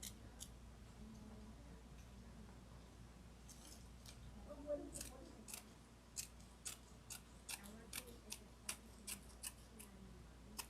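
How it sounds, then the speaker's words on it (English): Scissors cutting fabric for a tote bag insert along a stitched line near a zipper, a series of crisp close snips settling into a steady rhythm of about one every half second, fairly quiet. "Just make a cut and then cut along that line without cutting my zipper and without cutting the stitches."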